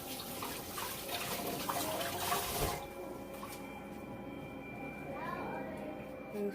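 Tap water runs steadily over a zucchini as it is rinsed in a home kitchen, a continuous close splashing wash that thins out partway through, with a person speaking over it.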